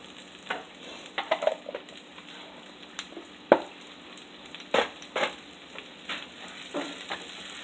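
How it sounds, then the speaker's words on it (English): Chopped yellow onions sautéing in bacon fat and butter for a keto French omelette, a low steady sizzle with scattered stirring scrapes and sharper clicks of a utensil against the pan, quiet and close. "we're going to saute these a little bit in the bacon fat and butter"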